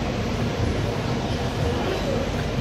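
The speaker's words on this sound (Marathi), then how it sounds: "तर मित्रांनो अशा प्रकारे आता ट्रेन सुटली आहे वडोदऱ्यामधून." A train pulls out of Vadodara station with a steady, close rumble of wheels and carriages, a continuous dense roar that holds at an even level throughout.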